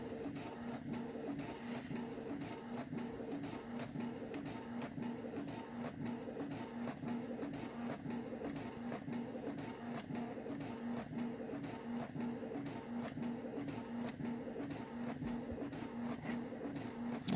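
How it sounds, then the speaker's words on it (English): A home inkjet printer prints a page with a steady run of mechanical whirring and rhythmic clicking carriage passes, faint and continuous with no talking. "so this should print fine."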